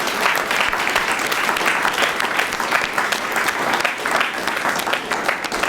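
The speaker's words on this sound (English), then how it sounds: "can we get another round of applause for this great session today?" Audience applause after a conference session, a dense, steady crowd clapping that fills the room, loud and close, sustained evenly without pause throughout.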